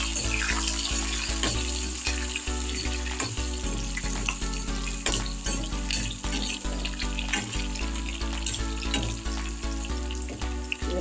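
Garlic and small pieces of tomato sauté in a pan for tamarind curry, giving a steady, close hiss of frying that runs without a break and sits fairly loud throughout.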